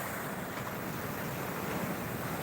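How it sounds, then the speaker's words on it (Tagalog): A strong ocean wave surges in at night by the shore, a continuous churning roar of surf mixed with gusty wind buffeting the microphone, loud and close with no voices. "Hinabol ako ng alon. Malakas yung alon na yun ah."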